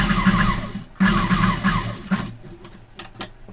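A sewing machine stitches a blouse in quick, close bursts of rapid mechanical whirring, broken by brief pauses.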